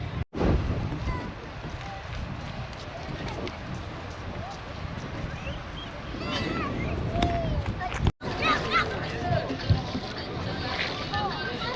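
A small boat rides on the sea near the Alexandria Citadel in Egypt, with wind buffeting the microphone and water splashing against the hull, while people talk nearby over the rumble; two sharp gusts briefly cut through.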